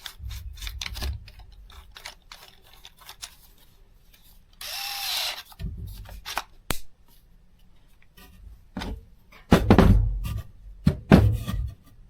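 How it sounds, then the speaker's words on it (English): A Craftsman 20V brushless cordless drill driver with a dull half-inch bit runs in short, separated bursts, with quiet gaps, knocks and handling clicks between the runs. "This is a very dull drill bit."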